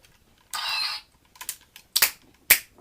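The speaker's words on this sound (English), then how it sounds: "It's got some missiles here, which you press the two buttons here and here." A Transformers Armada Galvatron toy fires its spring-loaded missiles at the press of two buttons: a brief rasping whir, then a few sharp plastic clicks and snaps spaced about half a second apart, close and fairly loud, with no talking.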